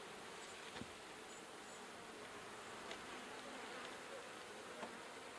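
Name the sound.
honey bees buzzing during a hive inspection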